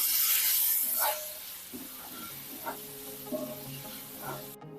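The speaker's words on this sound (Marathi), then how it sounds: "यामध्येच एक मध्यम आकाराचा टोमॅटो बारीक चिरून घेतलेला आहे हा सुद्धा काढून घेऊया आणि छान सॉफ्ट होईपर्यंत परतून घेऊया" Chopped onion and a finely cut medium tomato sauté in a pan, with a soft steady sizzle and occasional scraping stirs, close by.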